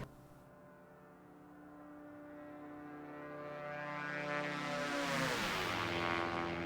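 A Diamond DA62 with twin diesel engines makes a flyby in X-Plane 11. A steady droning whir swells louder as it nears, then its pitch bends downward as it passes close by.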